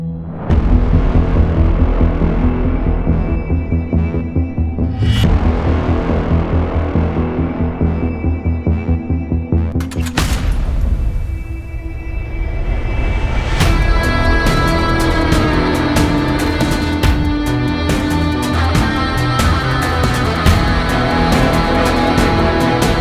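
Ducati Diavel V4 motorcycle being ridden, a loud continuous throbbing engine drone with a sharp shift in tone partway through, then a dense rapid pulsing as it revs on, with no talking.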